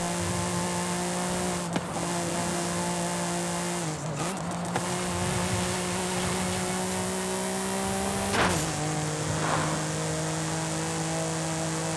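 A car engine in the Forza Horizon 5 racing game drones steadily at high revs, with brief dips and shifts as the pitch wobbles, and a few tire scrapes and bumps over rough ground, no talking.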